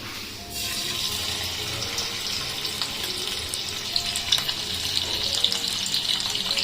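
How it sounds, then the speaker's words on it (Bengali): Bhetki fish pieces frying in plenty of hot oil, a loud, continuous close sizzle that starts as the fish goes in and keeps crackling throughout. "তো তেল গরম হয়ে গেছে, আমি মাছটা দিয়ে দিই।"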